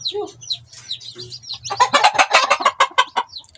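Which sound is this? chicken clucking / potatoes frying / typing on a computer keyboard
chicken clucking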